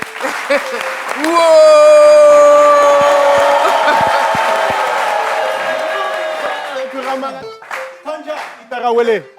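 A studio audience on a talk show welcoming a singer claps and cheers loudly while a long, sustained vocal cry rings over the applause, which fades as talking takes over toward the end.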